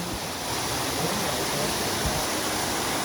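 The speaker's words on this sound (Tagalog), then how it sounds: "Yan ang falls mismo." Rolly Lake Falls pours in a steady, full rushing roar of falling water, loud and continuous with no talk over it.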